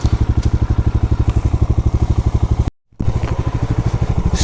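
Off-road vehicle engine pulling in first gear on a rough hill track, a loud, steady rapid throbbing close to the microphone, briefly cutting out for a moment before resuming.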